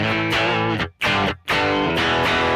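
An electric guitar plays through an amp's clean channel pushed by a boost, run through a Bad Cat PurePath analog cab simulator, giving loud, sustained, slightly gritty chords with two brief gaps between strums and no talking.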